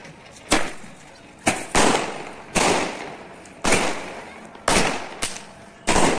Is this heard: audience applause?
no